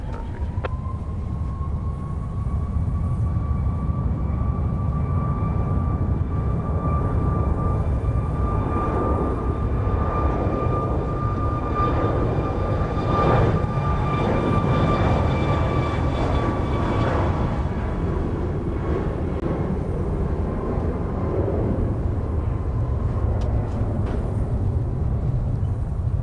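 A Southwest airliner taking off from Dallas Love Field gives a steady, loud jet roar that holds throughout, with a high tonal whine fading after the midpoint and no talk.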